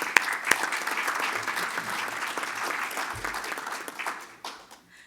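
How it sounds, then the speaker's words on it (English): Applause from an audience at an annual general meeting, a full room clapping steadily at close range, a few sharp individual claps standing out, then thinning and tapering off near the end. "Let's give them a round of applause."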